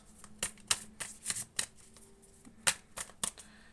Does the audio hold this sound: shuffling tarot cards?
yes